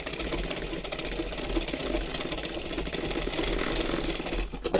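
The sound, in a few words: sewing machine stitching a baby's petticoat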